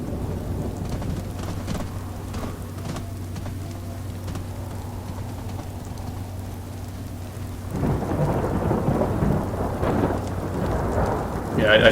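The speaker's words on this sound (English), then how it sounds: "It's so ambient with the storm." Thunderstorm ambience in the Fallout 4 video game: steady rain with rolling thunder, a low hum underneath early on, then the rain and rumble swell louder toward the end.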